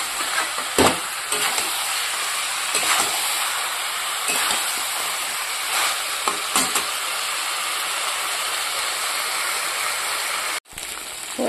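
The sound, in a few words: meat (chicken) being braised and stirred in a pan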